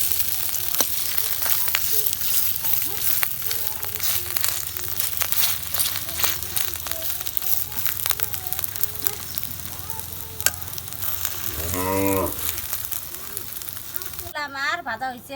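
Ash gourd leaf fritters (bora) fry in hot oil with a dense, continuous sizzle and occasional stirring scrapes, while someone talks over it throughout.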